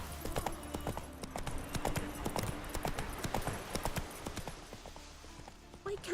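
Horse hooves clip-clop steadily in The Witcher 3, a brisk, even trot of sharp repeated knocks over a low ambient bed, with an occasional faint whinny.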